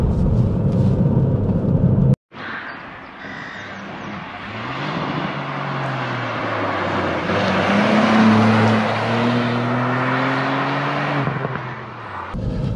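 A Ford Fiesta ST Mk8.5 with its three-cylinder engine drives hard, a brief cut then a rising rumble as it accelerates through the gears, the engine note climbing steadily and dropping at a shift near the end, with no talk over it.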